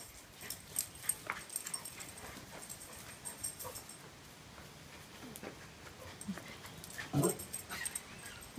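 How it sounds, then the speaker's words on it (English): A Great Pyrenees dog at play lets out a few faint, scattered whimpers and yips, with one louder short bark-like burst near the end, over quiet rustling and room noise. "Was that a bark?"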